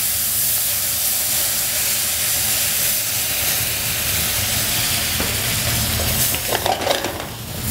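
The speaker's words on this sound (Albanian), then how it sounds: "Më pas do e shuajmë me verë." Saffron risotto rice in a hot pan hisses and sizzles steadily as wine goes in for deglazing, a loud close frying wash that flares with sharper spitting and stirring near the end.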